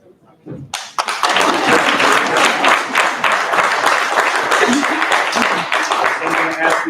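A large crowd at an apprenticeship graduation and signing ceremony bursts into loud, sustained applause that continues steadily, with a few cheers and voices mixed in.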